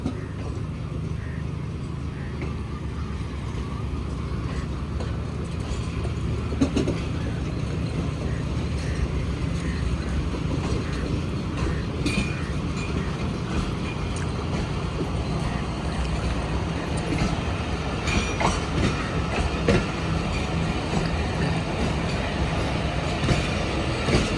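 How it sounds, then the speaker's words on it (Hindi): Passenger train, the 1 Up Khyber Mail, pulling out of Pano Aqil station in Pakistan after a stop, a steady loud rumble of rolling wagons with faint clacking and wheel noise throughout, no talk over it. "तो तकरीबन 5 मिनट रुकने के बाद 1 अप खैबर मेल निकल रही है पन्नौकल से।"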